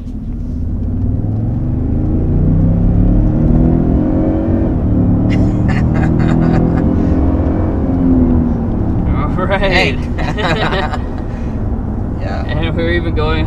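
A 2023 Toyota Sequoia Capstone cruises on the road with a steady low rumble and muted engine hum from inside the cabin, while someone talks over it throughout.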